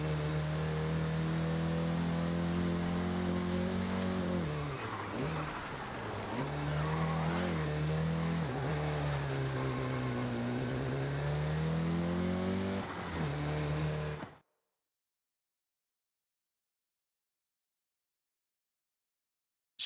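Volkswagen Golf GTI hot hatch driven in the racing game Forza Horizon 5, a loud, sustained engine drone with rising and falling revs and tire squeal that cuts off abruptly into silence.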